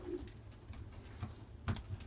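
Belgian racing pigeons coo softly inside the loft, a few low murmuring calls spaced out over a quiet background, one slightly louder coo near the end, no voices.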